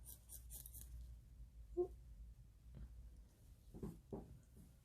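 Scissors snipping layers into a synthetic lace front wig, a few quiet, sparse cuts spread across a hushed room, close but faint.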